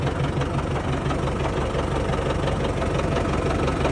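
Engine of a 2016 MTZ-82.1 tractor running steadily at idle, with a loud, continuous, rhythmic diesel rumble close by.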